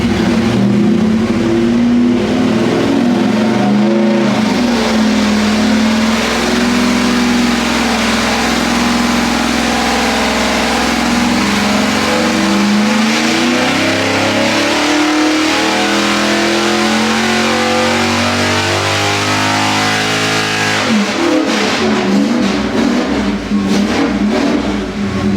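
A 406 small block Chevy on a dyno with an ATM carburetor and spacer, running on pump gas, roars loud and close in a long sustained pull, its pitch climbing, then it drops off and revs again near the end.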